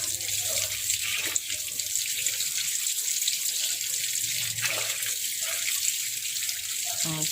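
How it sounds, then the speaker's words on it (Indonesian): Raw chicken for red chicken rendang washed under a running kitchen tap, a loud, steady rush of water into a sink broken by occasional splashes and handling clatter, close and continuous with no talk. "Pastikan untuk mencuci ayamnya kita cuci sampai benar-benar bersih"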